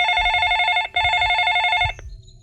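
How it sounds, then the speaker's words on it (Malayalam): A telephone ring sound effect in a Malayalam audiobook gives two clear, bright electronic ring bursts back to back, each about a second long, with a short gap between them, loud and close and followed by a brief fade. "ഫോൺ റിങ് ചെയ്യുന്നത് കേട്ട്"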